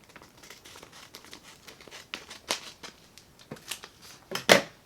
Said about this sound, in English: I'm just going to take my scissors and cut this off